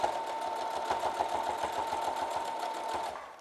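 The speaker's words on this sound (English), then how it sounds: "I'm going to stitch twice around the face mask" A sewing machine stitches around a cloth face mask with fabric ties, its needle tapping in a fast, even rhythm of close, steady pulses that fade at the very end.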